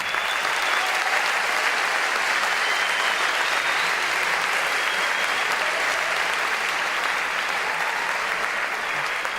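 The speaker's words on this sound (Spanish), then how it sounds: "Les pido un fuerte aplauso por ustedes que agotaron las entradas del salón en 10 días." Sustained, dense applause from a large conference audience in a sold-out hall, steady and loud throughout without pause.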